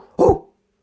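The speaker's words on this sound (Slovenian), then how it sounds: "se je lajanje stopnjevalo od tišjega k glasnejšemu" A small pet dog gives one loud, close bark burst lasting a fraction of a second, followed by silence.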